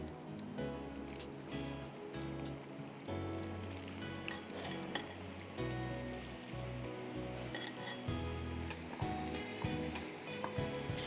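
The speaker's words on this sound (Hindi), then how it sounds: "मुझे फ्रेंच फ्राइज फ्राई करने हैं।" French fries deep-frying in hot oil, a dense, steady sizzle and crackle that stays loud and continuous throughout with no speech.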